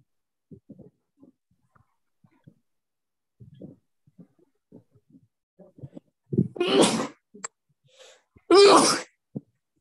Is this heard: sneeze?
yes